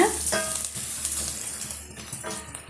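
Turmeric powder sautéing in a hot pan for idli upma, a bright, crackling sizzle up close with a few spatula scrapes and stirs, fading slightly toward the end.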